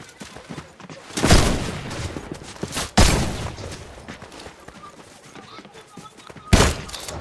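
Three loud, booming gunshots from a sniper rifle and other gunfire in the Fortnite video game, spaced a few seconds apart, with quieter game sounds between them.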